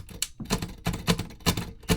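An electric Braille writer punches dots as its keys are pressed, giving a quick series of sharp clacks, about five strokes in two seconds, close and fairly crisp with no talking.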